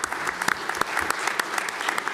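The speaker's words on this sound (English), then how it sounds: "please put your hands together" A conference audience claps in an indoor room, with dense, steady applause from many hands and scattered sharper individual claps, with no voices over it.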